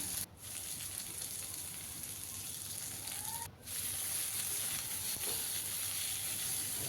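Potatoes and pointed gourd frying together in a pan for a vegetarian curry, a loud, continuous close hiss of sizzling that dips briefly twice before carrying on.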